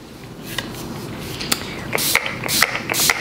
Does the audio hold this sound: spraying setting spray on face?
yes